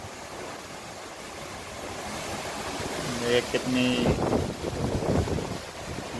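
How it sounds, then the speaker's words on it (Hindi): Strong autumn wind blows outdoors in Amstelveen, a steady roar and buffeting against a handheld phone microphone throughout, while someone speaks over it. "आज यहाँ विंडी मौसम है, बहुत तेज हवाएं चल रही हैं"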